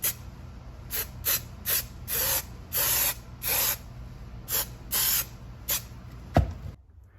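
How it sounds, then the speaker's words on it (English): Spray adhesive hisses onto an Alcantara door insert for an Acura NSX in about a dozen short, close bursts of varying length, ending with a faint knock. "So I'll spray one side first and then work on that and then spray the other side."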